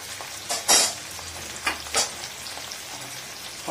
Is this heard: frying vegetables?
yes